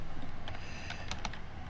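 Typing on a computer keyboard, a quick run of close, crisp key clicks in an uneven rhythm over a short stretch.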